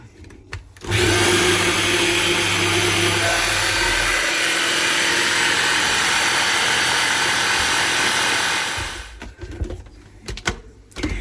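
A blender whirs loudly and steadily for about eight seconds blending a liver mixture with broth and cream, then shuts off, followed by a few light clatters.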